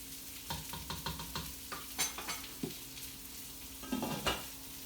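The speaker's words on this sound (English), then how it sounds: "Give it a quick stir to my sauce." A spoon stirs Italian sauce with meatballs in a pot, producing scraping and clinking strokes against the metal over a soft bubbling sizzle, close and fairly quiet, with no voices.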